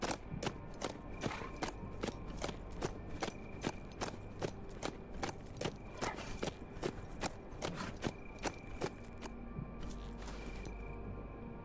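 Horse hooves clip-clop steadily in the video game HumanitZ, a regular run of sharp, evenly spaced hoof strikes over a low constant rumble, with no talking.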